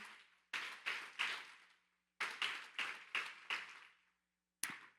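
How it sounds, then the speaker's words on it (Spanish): Several short bursts of rhythmic hand clapping in a church service, close and crisp, in two groups of quick claps separated by brief silences, with a final single clap. "Dale ese fuerte aplauso al Señor."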